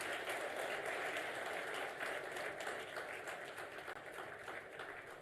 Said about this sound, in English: please join me in applauding the Honorable Chief Minister